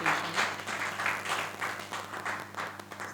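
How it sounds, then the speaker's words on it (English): Audience applause following a presentation at a juice brand event, a moderate wash of clapping with uneven swells, no voices over it. "can we give her another round of applause for her presentation?"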